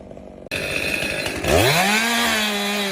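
A chainsaw roars into a large tree trunk at night, starting abruptly after a quiet moment, then its engine pitch climbs and holds at a loud, close, sustained whine as the chain bites into the wood.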